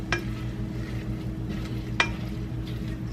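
Onions cooking down in a soup pot give a steady low frying hum with soft sizzle, broken by two brief scraping stirs, one near the start and one midway.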